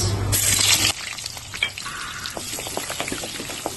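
Chopped onion dropped into hot mustard oil with black cumin in a wok, a loud burst of sizzling that settles into a steady crackling fry, close up and without talk.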